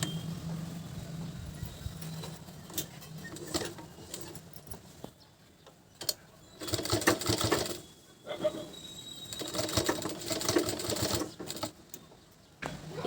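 A sewing machine stitches lace onto a garment in quick rattling bursts separated by short pauses, close-up and moderately loud, with light handling sounds between runs.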